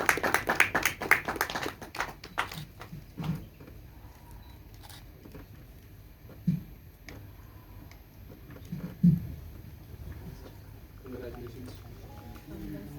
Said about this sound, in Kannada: ಮತ್ತೊಮ್ಮೆ ಜೋರಾದ ಚಪ್ಪಾಳೆ ಬರಲಿ ಇಡೀ ತಂಡಕ್ಕೆ